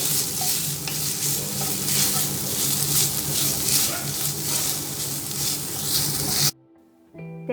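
Grated coconut and green chillies roasting on a low flame for mint chutney give a loud, continuous crackling sizzle with scraping stirs close by. The sound cuts off abruptly near the end, leaving near silence.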